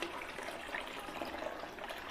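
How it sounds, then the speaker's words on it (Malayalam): Water being drawn through an aquarium siphon hose while cleaning a guppy tank, a soft, continuous watery rush and trickle at low level with no talking. "അപ്പോൾ ഓട്ടോമാറ്റിക്കലി വെള്ളം ഇങ്ങനെ വന്നുകൊണ്ടിരിക്കും"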